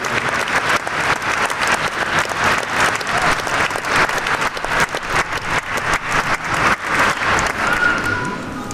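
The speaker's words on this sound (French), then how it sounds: "Alors, on peut les applaudir aussi" A church congregation applauds the children at a Christmas Eve family mass, a dense, sustained wash of many hands clapping that fills the whole stretch at steady volume.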